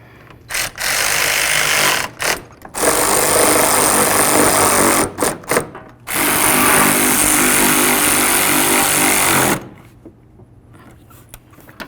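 Power tool driving headlight assembly mounting bolts on a 2006-2010 Dodge Charger: three loud sustained bursts of whirring, separated by short stop-start blips and quiet gaps.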